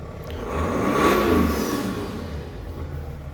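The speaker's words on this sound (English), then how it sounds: "Oh, listen to turbo, guys." At the front of a 2017 BMW 730d M Sport, the diesel engine revs once, swelling with a rising turbo whoosh and a humming note before settling back to a steady idle rumble, close and unaccompanied by speech.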